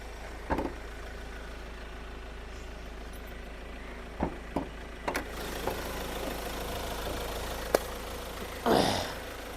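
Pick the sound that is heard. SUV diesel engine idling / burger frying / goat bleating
SUV diesel engine idling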